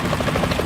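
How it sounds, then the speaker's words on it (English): A helicopter in the video game Metal Gear Solid 2, its rotor chop pulsing in a fast, even rhythm, loud and close in a brief burst with no voices. "Is that a chopper I just heard?"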